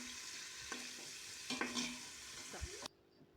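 Sliced onions frying in hot oil with whole spices for chicken tikka biryani, a steady close sizzle with several stirring clinks and scrapes, then cutting off abruptly near the end.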